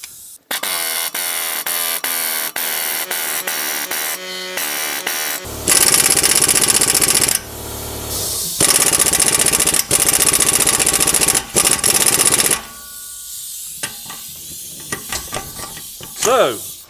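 Loud bursts of a pneumatic impact wrench hammering on a 2009 Subaru Forester wheel bearing job, several separate runs with ratcheting and hiss between them, close and alone.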